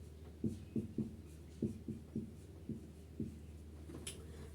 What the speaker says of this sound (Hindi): सबसे पहले हम लोग दोस्त इसका डेफिनेशन लिखेंगे।